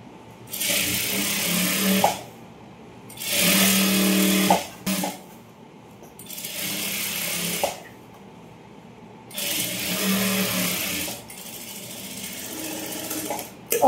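Sewing machine stitching down folded edges of silk skirt fabric for a girl's pavadai, running in four loud, steady bursts separated by short pauses, with no talking.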